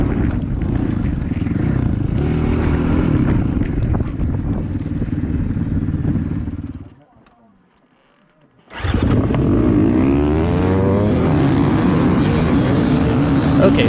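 A racing motorcycle at full throttle in a desert race, a loud sustained engine roar with wind buffeting that drops out briefly near the middle, then returns at high revs, with no speech.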